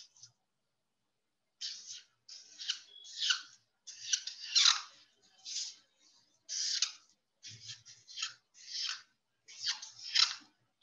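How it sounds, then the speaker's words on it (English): Scissors cutting paper cloud shapes for a DIY kite, heard as short, close, crisp snips and crunches in irregular bursts, alone in an otherwise quiet room. "Now we will cut them, kids. So simply at that line only, slowly and slowly move your sheets, your scissor, and you can easily cut"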